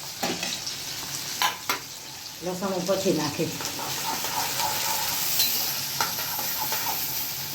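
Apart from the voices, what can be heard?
onion, tomato and chili tempering sizzling in a pan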